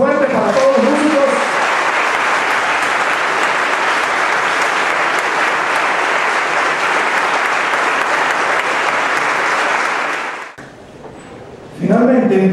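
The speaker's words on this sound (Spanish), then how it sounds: "Un aplauso fuerte para todos los músicos" Loud, sustained applause for Colombian music masters at a tribute ceremony, a dense wall of clapping that holds steady for about ten seconds before cutting off abruptly, followed by a near-silent pause and then a voice resuming.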